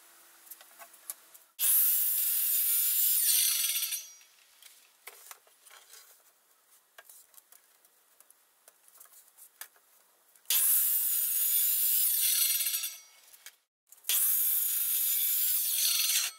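Wooden board sections for a garden bench are sawn in three loud, close bursts of harsh, hissing cutting, separated by quiet pauses with light handling noises.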